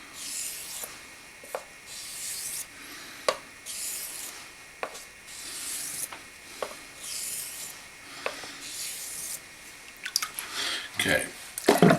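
Razor blade stroking across a wet Naniwa whetstone, soft rhythmic rasping passes with sharp clicks as the edge flips at each end, steady and close with quiet water sounds between strokes.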